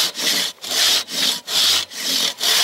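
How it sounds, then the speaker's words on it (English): A Silky Katanaboy 500 hand saw cuts through wood in steady rhythmic strokes, about five rasping push-pull passes, close and clear with no talking. "The saw does the majority of the work for you."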